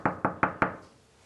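Four sharp, evenly spaced knocks on a room door, close and loud, with a short fading ring after the last one and no voices.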